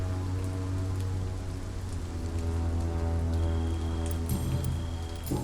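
Rain falls in the video game Vampyr as a steady, dense patter on surfaces, layered over a constant low tonal hum and faint ringing tones that hold throughout.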